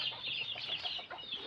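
Native chickens cluck in a short burst of soft, repeated clucks close by, set against a faint outdoor background on a small farm plot.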